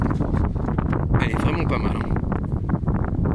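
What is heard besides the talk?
wind blowing outdoors at a flea market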